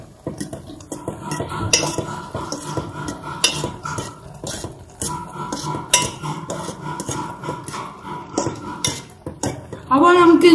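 Food being stirred in a cooking pot, with a utensil repeatedly scraping and clinking against the metal in an uneven rhythm for about ten seconds. The sounds are close and moderately loud, and a sharper rattling burst comes at the end.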